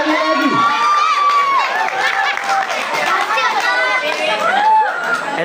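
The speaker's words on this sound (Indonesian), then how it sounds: "Beri tepuk tangan yang meriah sekali lagi." At a Qur'an recitation contest at an Islamic boarding school anniversary event, an audience makes dense, loud cheering and shouting with many children's voices, continuous and close throughout.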